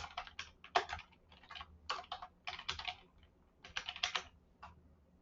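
Keys clatter on a computer keyboard in quick irregular bursts of typing, close and fairly quiet, with short pauses between words.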